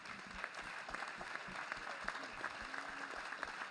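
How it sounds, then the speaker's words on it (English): Faint, distant audience applause for a panel at a Negro League centennial commemoration event, a soft continuous patter with some murmuring and a voice heard underneath. "I think we need to applaud this entire panel tonight"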